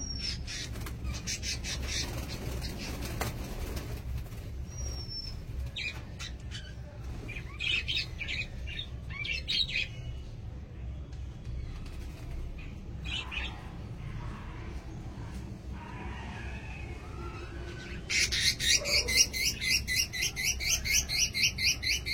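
Caged lutino birds at a bird market give harsh, repeated squawks and chirps close by over a steady crowd murmur, the calls growing louder and denser near the end.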